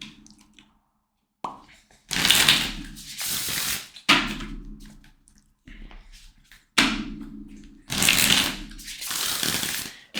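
Oracle cards riffle-shuffled in several separate bursts, close and crisp, each a quick fluttering rush followed by soft taps and short pauses.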